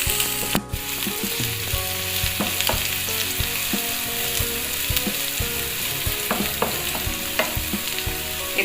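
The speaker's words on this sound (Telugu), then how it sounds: "ముందుగానే తరిగి పెట్టుకున్న ఆనియన్స్, కొంచెం ఫ్రై చేసుకున్నాను." Chopped onions frying in a pan for crispy gobi manchurian, a continuous loud sizzle close up with frequent clatter of a utensil stirring against the pan, no voices.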